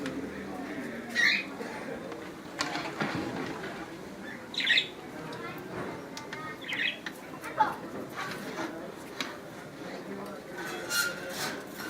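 Small pet birds chirp and squawk in short, scattered calls close by while feeding, mixed with rustling and faint background talk.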